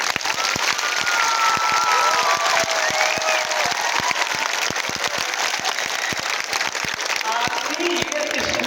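Students at Maharishi Dayanand Babulal Inter College in Umari, Kanpur applaud in a sustained, crisp round of many hands clapping, with scattered voices and shouts among the crowd.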